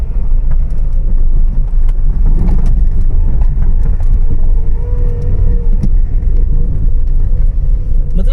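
A Honda BR-V with over 100,000 km, worn suspension and a tight clutch, drives with a loud, heavy low rumble and rattling clatter from the underside, continuous and close.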